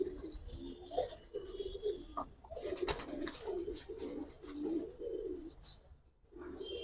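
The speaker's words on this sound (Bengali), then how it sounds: "এগুলো হাই ফ্লার কবুতর ইন্ডিয়ান" Indian high flyer pigeons cooing in soft, repeated throaty murmurs close by, with a few sharper chirps from other birds mixed in.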